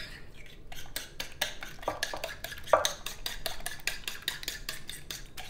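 Zucchini pancake batter being stirred in a bowl, a utensil scraping and clinking against the sides in a quick, steady rhythm of repeated strokes, close and moderately loud with no talking.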